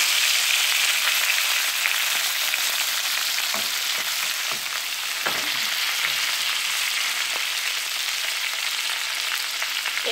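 Chicken cooking in its own rendered fat gives off a dense, even hiss of frying, with sporadic sharper pops and spatters of oil over the continuous close sizzle.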